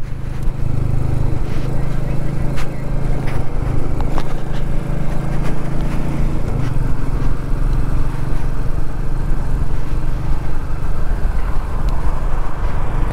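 A Royal Enfield Meteor 350, a 350 cc single-cylinder motorcycle, on a test ride, its engine droning loud and steady throughout with low rumble and road noise.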